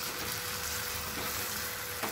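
A paste of boiled long beans fries in a pan over a medium flame, a fairly quiet, steady sizzle with soft stirring and a small scrape near the end.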